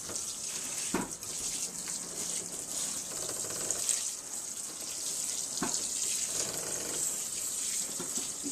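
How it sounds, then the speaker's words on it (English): Water from a faucet sprayer runs lightly over indoor seed trays in a steady, close hiss, with a few soft knocks and clicks. No voices. "you just lightly run the water over the top of your plants"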